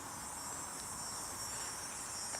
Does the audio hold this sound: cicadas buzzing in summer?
yes